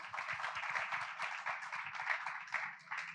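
A crowd applauding, a steady wash of clapping hands that carries on without a break, moderately loud throughout.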